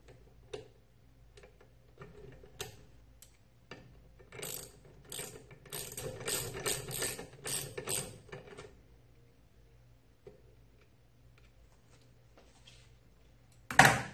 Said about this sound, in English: back off the drive screw approximately 1 centimeter.